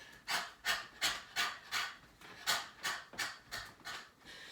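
Rhythmic, forceful exhalations during a shoulder-bouncing breathing exercise: about ten short, breathy bursts in a steady pulse, close and fairly loud, with no talking.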